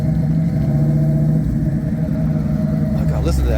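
A car at a 1950s diner car show rumbles loudly and close as it pulls out, a deep steady engine drone, with someone talking nearby.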